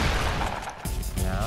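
Gunfire in Fortnite: a short, dense burst of loud shots that breaks off briefly and then resumes, with no talk.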